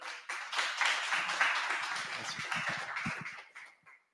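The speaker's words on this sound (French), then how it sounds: "Vous pouvez les applaudir très fort." An audience at a French developer meetup applauds the next two speakers, producing a faint, steady patter of clapping with a few voices murmuring underneath. The applause fades out near the end.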